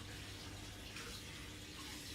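A bathroom tap runs steadily, a continuous broad hiss of flowing water splashing into a basin, close and constant throughout with no voices.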